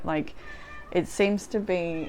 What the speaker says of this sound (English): She's been meowing herself awake after a nap lately.